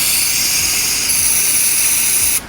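A carpet extractor machine runs loud and steady, a constant hissing motor roar used while detailing an Audi B9 S4, with faint rhythmic thumps underneath before it cuts off near the end.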